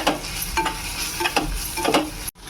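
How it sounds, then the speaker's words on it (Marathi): Garam masala, coriander and cumin powders stir-fried in a pan for suran yam bhaji, loud close sizzling with rhythmic spatula scrapes and a brief cut near the end. "गरम मसाला पावडर धना पावडर जिरा पावडर मसाला सगळं परतून घेऊया"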